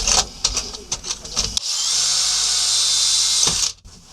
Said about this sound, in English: I'm just going to go in with a slightly bigger drill bit.